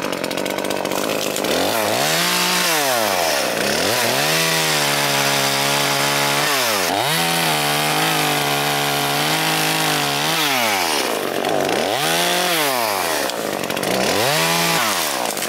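A loud, close chainsaw cuts tree branches outdoors, its engine revving up and down repeatedly as the chain bites into the wood, running continuously with no pauses.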